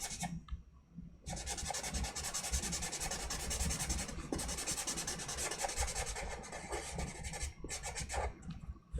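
A black crayon rubbing steadily across paper while a butterfly drawing is colored in, a continuous close scratchy sound with a few short pauses.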